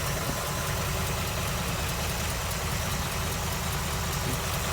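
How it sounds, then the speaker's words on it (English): A 1978 V8 Jeep CJ-7 engine idles steadily without a break, its AC pump clicking on and off as it cycles, a faint mechanical ticking throughout and no voices. "You can hear the AC pump idling, clicking in and on and off"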